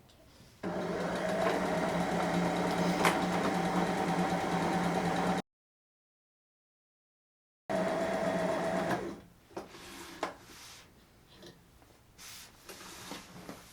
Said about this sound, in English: she's going to go ahead and sew it right down on top of that seam